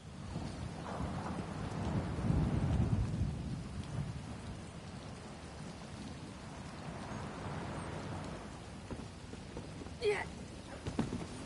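Thunderstorm in The Elder Scrolls Online, steady rain hissing throughout with a deep rolling rumble of thunder swelling early on and a sharper crack near the end, alone without talk.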